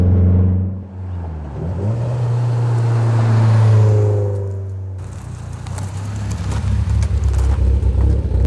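A Mitsubishi Lancer Evolution 10 engine drones and rises in pitch as the car accelerates, swelling loud and close, then shifts to a rougher, steady roar with road noise.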